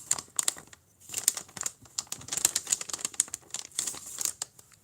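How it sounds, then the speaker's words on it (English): Crinkly paper crumpled close by during a painting session, giving irregular crackling bursts and sharp rustles that come in clusters across the whole stretch, with no talking. "Crinkly paper"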